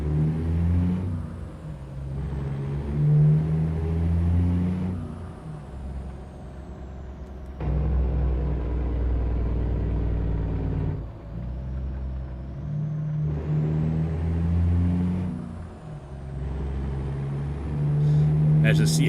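A truck engine in American Truck Simulator rumbles deep and steady, rising and falling in loudness as it revs and settles, with the harmonic drone swelling in several surges and dipping between them.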